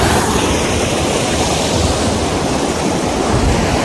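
Powerful, dangerous-looking water surges in a loud, steady, unbroken roar of rushing flow and breaking waves, close by and filling the whole scene with no speech over it.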